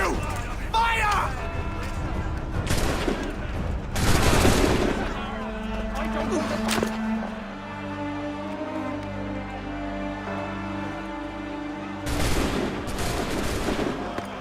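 A musket volley fires in the Assassin's Creed III video game, with several loud, sharp broadband gunshot bursts spaced across the scene, separated by quieter stretches of low ambient rumble and faint voices.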